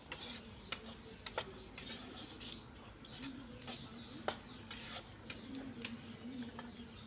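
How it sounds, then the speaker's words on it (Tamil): Chickpea sundal stirred in a pan, a quiet run of light spoon clicks and scrapes against metal in an uneven rhythm, faint and close. "இப்போ எல்லாத்தையும் நல்லா கிளறி விட்டுக்கலாம்"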